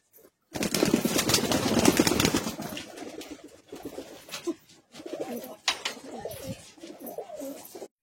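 Loft pigeons at Uluberia near Kolkata are fed: a loud burst of flapping and scuffling comes first, then close, throaty cooing phrases repeat with no talking.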